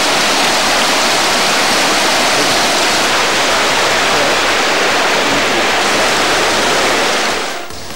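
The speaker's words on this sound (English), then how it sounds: "We are at Ipan River, one of the many water bodies that crisscross the Cross River National Park." The Ipan River rushes steadily through Cross River National Park in Nigeria, a loud, dense, continuous wash of flowing water that fills the whole stretch and eases off slightly at the very end.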